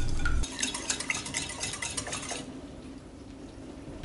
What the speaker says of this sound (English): Add 2 large eggs, a teaspoon of vanilla, and whisk until it's well combined.